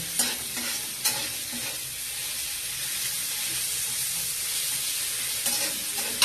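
Broccoli fries in a pan with a continuous bright sizzle. Repeated close scrapes of stirring come at the start and the end.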